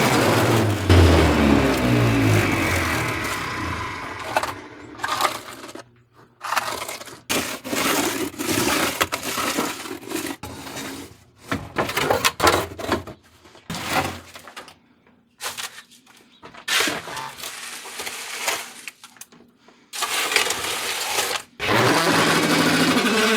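A homemade vibration table for concrete molds runs with a loud, rough buzzing rattle that cuts in and out several times, with brief silent gaps between bursts.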